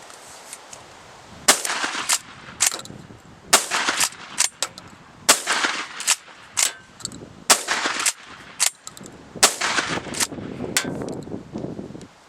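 A Pardus LAX 12 lever-action shotgun fires outdoors, a string of about a dozen loud, sharp blasts in irregular succession with quiet gaps and faint wind noise between them.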